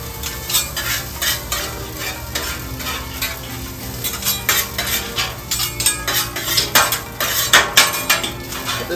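Fried rice being mixed on a Blackstone griddle: a loud, continuous sizzle with rapid rhythmic scraping and clanking of metal spatulas against the flat steel top, close up and without talk.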